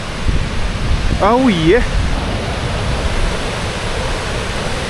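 A steady roar of a waterfall in Iceland fills the whole stretch, loud and even, with a man's brief exclamation rising over it near the start.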